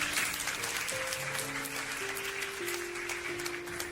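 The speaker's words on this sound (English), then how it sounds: "So definitely please also give them a round of applause too tonight" At a wedding reception in Houston, a crowd gives the bride's family a round of applause: a continuous patter of clapping from a roomful of guests, with sustained musical tones running underneath.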